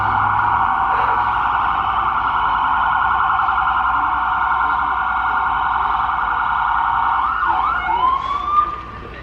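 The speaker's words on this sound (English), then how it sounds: "sorry about that noise, the police sirens." A loud, close police siren wails continuously in a fast warbling pattern, then shifts pitch near the end as it changes tone.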